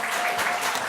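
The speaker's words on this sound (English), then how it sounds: "Can we have one more round of applause for the governor and our first panelist?" A brief burst of audience applause at a 2019 Oregon foster care summit, a dense, even patter of many hands clapping throughout.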